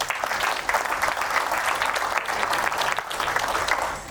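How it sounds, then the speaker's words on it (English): Audience at a Bundaberg café-industry networking panel gives a quick, steady round of applause, dense clapping holding at an even level for about four seconds before easing slightly at the end. "Quick round of applause for that."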